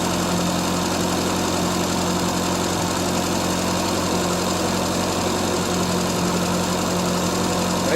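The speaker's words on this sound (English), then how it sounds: "Right now it's idling about 1100." A 1975 Triumph Spitfire 1500 engine idles steadily at about 1100 rpm with the choke off, a constant low rumble with a faint rhythmic knock, close and unchanging throughout.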